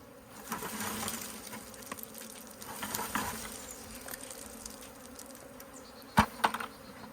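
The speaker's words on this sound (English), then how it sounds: "So here's the bees that haven't figured it out. They're going back into the bucket." A swarm of bees hums steadily near and around a bucket as they are shaken in, followed by a couple of sharp knocks near the end.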